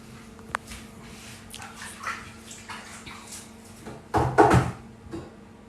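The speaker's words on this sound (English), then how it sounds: "I'll just wash my hand." A hand being washed under a running tap in a home kitchen, with a soft steady trickle and a louder splashing burst near the end as the hand passes through the stream.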